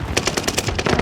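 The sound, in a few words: shotgun fire in a video game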